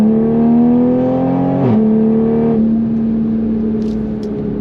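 A Toyota Supra engine revs hard under full acceleration, a loud, steady close-up drone that climbs, drops briefly at a shift and then holds again, with no talking.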